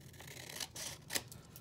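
Scissors snip through folded paper pages while a pocket is made, giving a few short crisp cuts close by with quiet gaps between.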